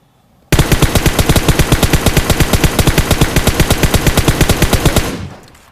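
Sustained automatic gunfire in the PUBG Mobile shooting game: one loud, rapid, evenly spaced burst of shots lasting about four and a half seconds, ending abruptly and then fading out.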